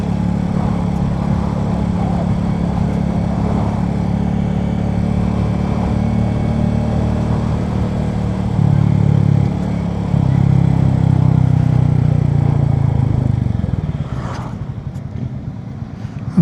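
A Royal Enfield Bullet 350 single runs in second gear on a test ride, a steady close thumping drone that swells louder around the middle before easing off near the end, with no voices.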